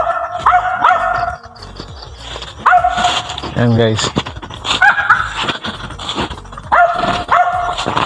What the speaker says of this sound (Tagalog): medyo maingay yung aso natin